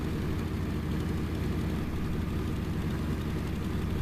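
Steady propeller aircraft engine drone in the flight game IL-2 1946 during a carrier landing approach, throttle cut back, a dense low continuous rumble holding level throughout with no voices.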